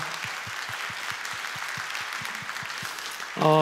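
An audience at a Korean forum on an anti-discrimination law claps to welcome guests, a soft, steady patter under a regular low rhythmic beat, ending with a louder tonal swell.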